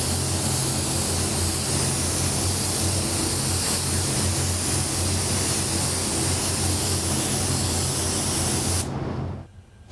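Aerosol spray paint hisses steadily and loudly at close range while a second coat goes onto skateboard parts, then cuts off abruptly near the end.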